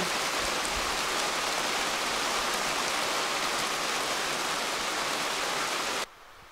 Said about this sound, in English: But it's raining.